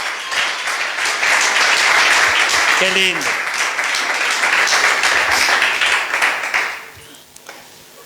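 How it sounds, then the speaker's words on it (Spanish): A church congregation breaks into loud, sustained applause, a thick roar of many clapping hands that tapers off near the end, while a voice speaks briefly over it. "Dale un aplauso a que vive."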